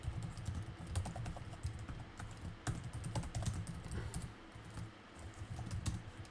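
Quick, steady tapping on a computer keyboard as quiz questions are typed, bursts of keystrokes with short pauses, close and fairly quiet with no talking.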